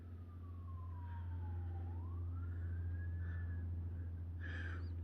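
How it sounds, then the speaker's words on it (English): A wailing emergency siren outside sweeps down and then back up, fairly faint and distant, over a steady low hum, with a brief brighter burst near the end. "Oh, there's sirens outside."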